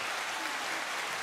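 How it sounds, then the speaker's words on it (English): Studio audience applause on a podcast set, a dense, steady wash of many hands clapping together, even and fairly quiet throughout the short burst. "let's give a round of applause"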